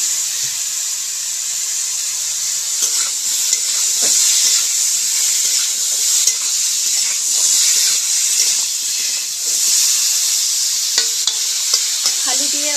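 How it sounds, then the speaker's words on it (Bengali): Boiled taro (kochu) pieces fry in hot oil, giving a loud, continuous close sizzle and hiss with occasional scraping clicks of stirring, and no voices. "এখন আমি সিদ্ধ করা কচুটাকে ভালো করে ভেজে নেব।"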